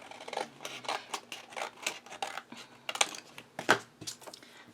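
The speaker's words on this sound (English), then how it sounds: "you're going to make a cut of a little triangle" Scissors snip a small triangle into a cardstock pocket folder, a run of close, crisp, irregular cutting snips and paper rustles ending with a couple of sharper clicks.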